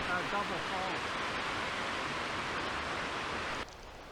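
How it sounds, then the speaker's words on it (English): Rushing water from Double Falls, two stacked waterfalls 178 feet tall in a state park, a constant broadband roar heard from nearby that suddenly drops to a softer hiss near the end. "they call it Double Falls because it's basically two waterfalls, one on top of the other"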